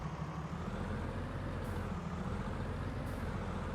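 A truck engine with custom sounds in Farming Simulator 19 runs as a steady, loud, low drone, with two faint hissing bursts above it.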